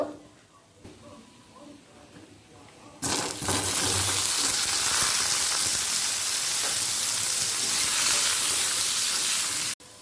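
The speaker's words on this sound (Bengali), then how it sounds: "কড়াতে সাদা তেল দিয়ে প্রথমে আলু আর সয়াবিনটা হালকা করে ভেজে নেব" Potatoes and soybean chunks hit hot white oil in a kadai, setting off a loud, steady sizzle that bursts in after a quieter stretch and hisses on until it cuts off near the end.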